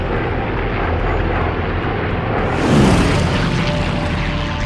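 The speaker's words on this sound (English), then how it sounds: "The massive strike force numbers over 200 planes." World War II strike force of aircraft flying overhead, a dense engine roar that swells into a brief rushing pass, with faint speech beneath.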